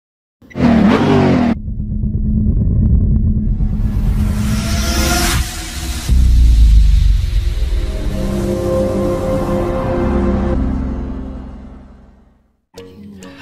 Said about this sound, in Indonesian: Nah, ini ada truk.